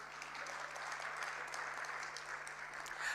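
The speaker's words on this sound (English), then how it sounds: "Ladies and gentlemen, we owe her another round of applause" Brief, modest round of audience applause at a budget review dinner session, steady soft clapping from a room of guests, heard from a distance.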